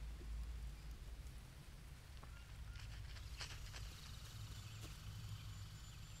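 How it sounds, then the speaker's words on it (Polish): Steady rain falls through the Amazon jungle in the survival game Green Hell, a quiet, continuous hiss of drops with scattered faint pattering. No one speaks. "W tej Amazonii widzę, że dość często pada."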